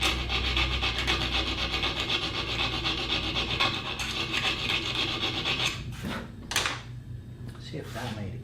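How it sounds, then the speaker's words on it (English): A metal file rasps steadily against a jaw harp frame during a reed replacement, a continuous scraping for several seconds and then a few separate strokes, close and fairly loud. "Maybe I can file that."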